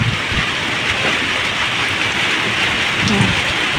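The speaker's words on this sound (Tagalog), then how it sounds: "Walang tigil ang ulan. Kahapon pa." Heavy typhoon rain pours steadily and loudly, a dense, unbroken hiss of drops on surfaces with faint low rumbling underneath.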